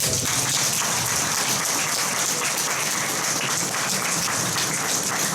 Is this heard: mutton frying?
no